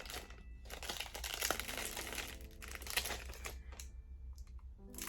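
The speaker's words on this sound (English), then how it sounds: "there is like a little sticky plastic over it that I'm removing" Sticky plastic film is peeled off eyeglass frames, producing quiet, close crinkling and crackling with small ticks and rustles that rise and fall over a few seconds, with no talking.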